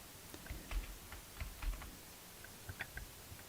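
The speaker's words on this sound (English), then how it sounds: "I'm typing in the wrong place." Typing on a computer keyboard, a quiet scattering of sharp key clicks in uneven bursts with short pauses between, close to the microphone.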